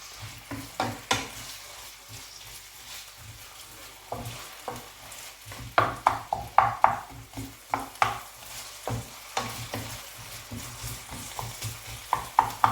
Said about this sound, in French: Je vais tout remuer comme ça pour que ça colle pas dans la poêle.